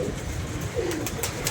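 Pigeons coo while feeding, a few soft throaty coos close by over a low background murmur.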